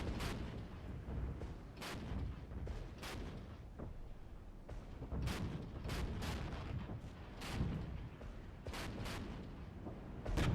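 Gunfire and artillery blasts from the Regiments combined-arms wargame video game, with a steady battlefield rumble broken by repeated sharp shots and heavy booms spread across the whole stretch, no voices over it.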